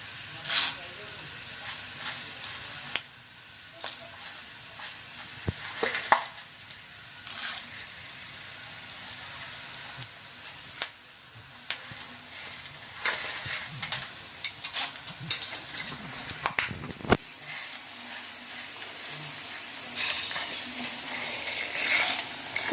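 Peanuts and chana dal fry in a pan for pulihora, giving a soft continuous sizzle with scraping stirs and light clatters, while a voice talks faintly now and then.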